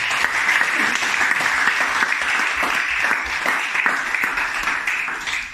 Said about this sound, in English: So I think it would be remiss not to give Mark a round of applause